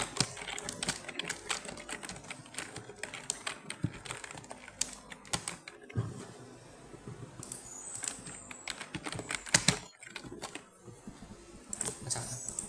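A search being typed on a computer keyboard, with quiet, close, irregular key clicks running continuously, some brief pauses and faster bursts, fairly soft throughout.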